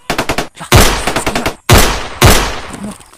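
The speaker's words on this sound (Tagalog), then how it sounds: "Putukan dun. Putukan." Close, loud gunfire: a quick burst of rapid shots followed by three heavy blasts, each leaving a ringing, rattling tail before the next.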